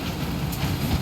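A train running in Red Dead Redemption 2, its continuous heavy rumble and rolling rail noise close and steady for a brief moment with no talking over it.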